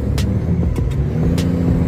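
A Freightliner Century semi truck droning steadily from inside the cab while being driven on the highway, a low continuous engine rumble with a few faint rattles and clicks, no talking.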